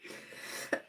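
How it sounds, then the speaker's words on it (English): A person coughs during a live stream, a short muffled throat sound followed by a sharp, loud burst of coughing at the very end, close to the microphone. "I'm so sorry for coughing."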